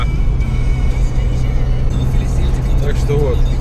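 Inside a moving car on the road, a steady low engine and road rumble fills the cabin, with a person talking over it.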